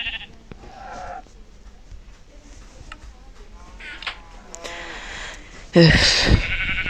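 Minecraft sheep bleat in short game-sound calls, with one loud, close bleat near the end, over faint background talk and quiet in-game ticks.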